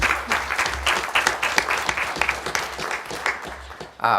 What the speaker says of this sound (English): So a round of applause for the staff.